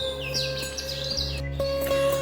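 Several birds chirp and tweet in short, bright calls in a forest at Mahabaleshwar, over a steady low background hum. No voices.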